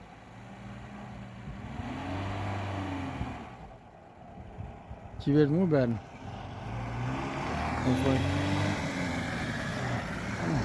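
KamAZ trucks and cars roll past on a road in Shu, Zhambyl region, engines swelling and fading, with one vehicle revving sharply midway while someone talks over the traffic.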